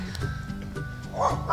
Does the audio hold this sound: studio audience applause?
no